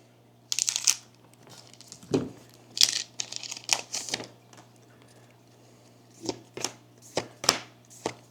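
Foil booster packs from a One Piece OP10 Royal Blood trading card box torn open and shuffled through, with sharp crinkling rips and card flicks in separate bursts and short pauses between them, close up.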